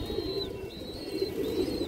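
A female Indian high flyer pigeon of the palla line coos in low, repeated murmurs close by, with a faint thin whistle-like tone recurring above.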